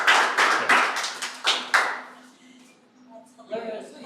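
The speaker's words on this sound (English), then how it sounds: "Clapping really is not necessary." A small meetup audience claps in a handful of separate bursts that die away, followed by a few quieter taps and brief voices.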